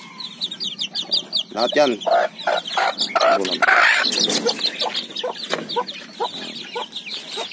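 A hen clucks repeatedly up close while chicks cheep around her, with a brief spoken voice mixed in.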